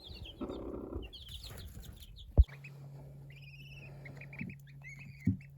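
A broody hen clucks among other fowl on a farm with a brood of chicks, sounding as short faint clucks and chirps over low background noise, with one sharp knock partway through.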